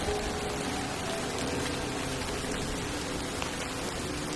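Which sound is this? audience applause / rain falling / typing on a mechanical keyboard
rain falling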